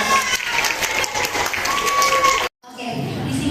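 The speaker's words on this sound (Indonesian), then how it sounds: "beri tepuk tangan untuk kelompok 13" Audience at a school youth guidance session for puberty and sexuality clapping for a student group, a steady patter of hands for about two and a half seconds before a brief dropout, then a quieter room tone with faint voices.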